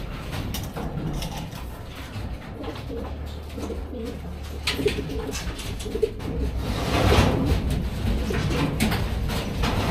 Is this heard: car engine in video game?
no